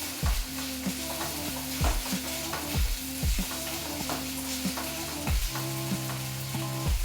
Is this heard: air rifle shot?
no